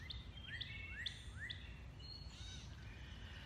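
Several short, rising bird chirps repeat outdoors beside a deck, fairly faint over a steady low background hum, with no talk.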